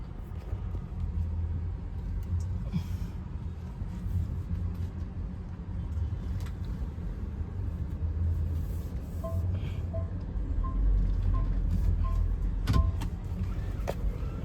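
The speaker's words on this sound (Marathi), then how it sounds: "गाडी तर स्टार्ट केलेली आहे गाडी काढू इथून आपण आता" An automatic car already running and pulling away for a long road trip, a low steady engine rumble inside the cabin with faint clicks and brief tones, rising slightly toward the end, with no talk.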